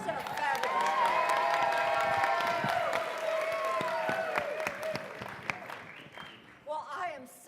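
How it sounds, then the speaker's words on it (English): An evening-session audience at a conference applauds and cheers, a sustained wash of clapping with whoops, while tonal voices or music sit over it before the noise thins toward the end. "Please give a round of applause for Rhonda Walls-Kirby"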